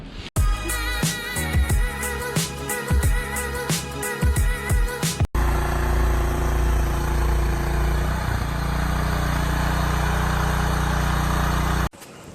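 A Craftsman single-stage 521 snow blower's 5HP Tecumseh engine, its recoil starter just repaired, sputters through several pulls and then catches into a steady, loud, close running drone that holds for about seven seconds before cutting off.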